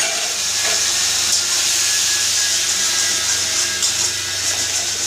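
Nigella seeds and ground pointed gourd seeds fry in hot oil after the gourds were fried, giving a steady, close hiss and sizzle that holds evenly throughout with no talking.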